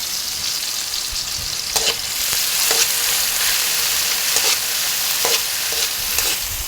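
Dried anchovies (dilis) sauté in a hot pan, giving a steady bright sizzle with a few stirring scrapes and clinks, close and continuous with no talk.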